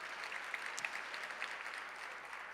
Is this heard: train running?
no